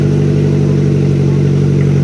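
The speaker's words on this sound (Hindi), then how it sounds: "चलो गाड़ी स्टार्ट हो गई है।" A Maruti Suzuki Swift petrol car engine, newly fitted after an engine swap, runs at a loud, steady idle close by, with a constant low hum and slight clatter and no voices.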